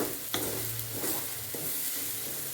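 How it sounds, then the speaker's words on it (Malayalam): Onion and tomato sautéing over a low flame in an alloy cheenichatti, giving a steady close sizzle broken by a few sharp scrapes and knocks of stirring. "സവാള തക്കാളി വഴറ്റതിൻ്റെ കൂടെ മിക്സ് ചെയ്യാം"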